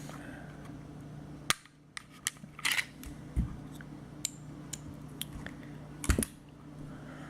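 Field stripping an SD9VE pistol yields sharp metallic clicks and snaps from the slide, a handful of crisp isolated knocks spaced over several seconds against a low steady hum, close and fairly quiet.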